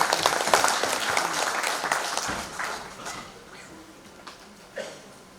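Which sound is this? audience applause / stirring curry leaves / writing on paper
audience applause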